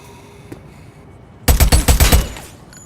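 An AK rifle fires in the Headhunter video game: a quick burst of about six loud, punchy shots in even rhythm after a brief quiet lead-in, with no talk.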